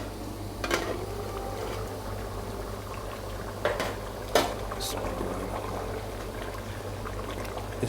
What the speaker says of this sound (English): have a look how the curry is simmering away